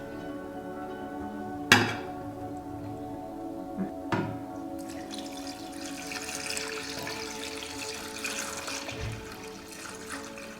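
Cherries, water and juice pour and splash steadily into a pot, with a sharp clunk early on and a few lighter knocks over continuous running-water noise.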